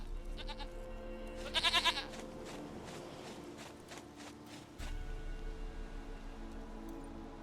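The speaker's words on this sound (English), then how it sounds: "Goat of mine, dearest," A goat bleating in The Witcher 3 on PS5, with a few quick bleats early and a louder cluster of shaky cries near two seconds, set against soft game ambience and light footsteps.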